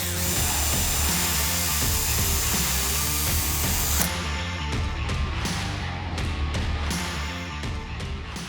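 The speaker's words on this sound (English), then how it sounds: "Having marked out the face of the door, I can now drill." A power drill bores a pilot hole through a fire door, its motor a steady whining tone that shifts midway into a choppier, stuttering grind as the bit works through the door.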